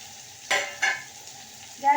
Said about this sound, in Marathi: आपण त्याच्यामध्ये मी जे 3 कांदे बारीक चिरून घेतले आहे ते टाकूया.